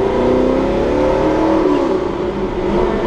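A 1968 Camaro SS engine and exhaust rumble loudly and continuously while driving through a tunnel, the revs rising and settling in a smooth, resonant drone with no voices.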